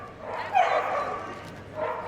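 A border collie barks at a Crufts agility team competition, a couple of short mid-pitched yips spaced apart, moderately near over a quiet arena background.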